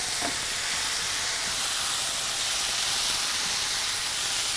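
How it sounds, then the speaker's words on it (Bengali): Fish fries in plenty of oil for a Sylheti-style dish, giving a dense, continuous sizzling hiss, loud and close, with no break and no voices. "বেশ একটা ভাজা ভাজা হয়ে গেল না মাছটার"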